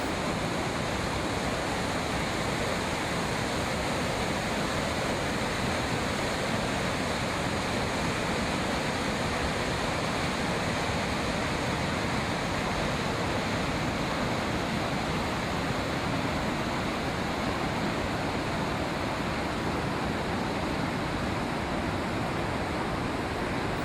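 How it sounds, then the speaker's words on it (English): A steady, powerful roar of falling water, thick and unbroken throughout, like standing close to a large waterfall. "Two mighty waterfalls bear witness to this."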